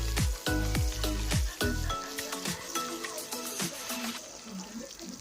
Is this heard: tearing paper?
no